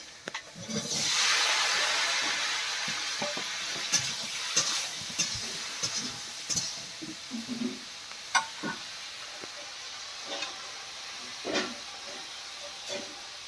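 Ridge gourd and potato drop into hot oil in a frying pan with a loud burst of sizzling that settles into a steady hiss, with scattered clinks and stirring knocks over it.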